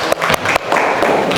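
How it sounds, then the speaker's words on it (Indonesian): A classroom of vocational high school students clapping hands together in a dense, steady burst, with a few sharper claps standing out near the start, close and fairly loud throughout. "Baik, kita tepuk tangan dulu."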